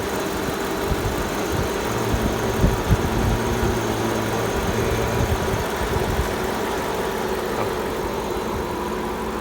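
A 2008 BMW 750Li V8 engine idles with a steady, low rumble and slight vibration, continuous throughout with no talking.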